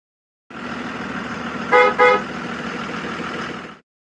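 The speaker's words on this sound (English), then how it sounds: "Bus." A road vehicle rumbles steadily nearby, and partway through a bus horn gives two short honks in quick succession before the engine noise continues and then stops.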